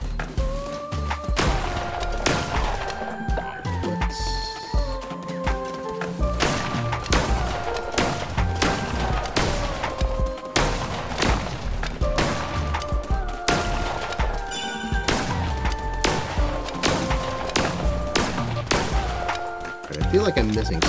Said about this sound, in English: Lots of explosions everywhere.